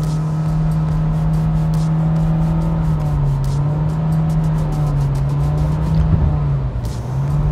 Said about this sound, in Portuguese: eu estou variando a pressão aqui no pedal para vocês entenderem como que é o mau uso do CVT